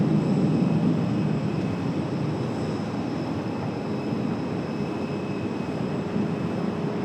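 An Aer Lingus Airbus A321XLR jet arriving from Dublin gives a loud, steady roar with a whining engine tone, constant and close throughout with no talk.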